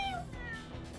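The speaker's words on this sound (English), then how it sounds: "Kitty!" A cat meows nearby, a short, clear, slightly drawn-out call that falls in pitch within a single second.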